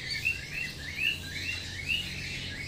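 Small birds in a home aviary holding more than a hundred pairs chirp in repeated bright, high tweets against a low steady background hum, fairly close and continuous.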